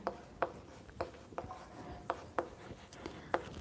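Hand writing on a surface during a lesson, several sharp tapping strokes and light scratches at an uneven pace, close and fairly quiet, with no voice.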